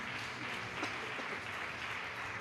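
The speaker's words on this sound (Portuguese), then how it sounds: "Aplauda ao Espírito Santo" A church crowd at a leadership workshop applauds, a faint, dense, steady wash of clapping from many hands heard from a distance.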